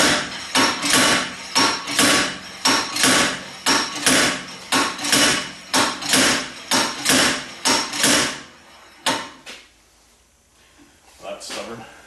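Slide hammer hits pulling a stuck front hub on a 2011 Cadillac CTS AWD: about fifteen loud, sharp metallic impacts in a steady rhythm close by, then a pause and a couple of scattered knocks at the end, with people talking.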